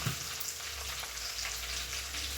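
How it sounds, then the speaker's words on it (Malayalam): Chopped onions fry in a pan for chilli beef, giving a steady, close sizzle that holds evenly throughout with no talking. "നമ്മൾ സവോള ഇതുപോലെ കട്ട് ചെയ്തിട്ടുണ്ടായിരുന്നല്ലോ, ആ സവോള എന്നിട്ട് ഇട്ടു."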